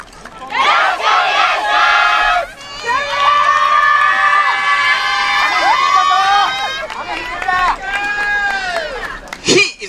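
Loud festival crowd at an outdoor yosakoi dance event in Tochigi, shouting a rhythmic chant in unison, with cheering voices and some higher children's shouts rising and falling over about ten seconds.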